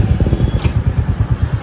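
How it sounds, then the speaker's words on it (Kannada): A Royal Enfield motorcycle engine thumps at idle or low revs nearby, with a steady, rapid low pulsing beat and a faint whine above it, no talking. "ನಾವು ಎನ್ಫೀಲ್ಡ್ ಇಸ್ಕೊಂಡು ಹೋಗ್ತಾ ಇದೀವಿ"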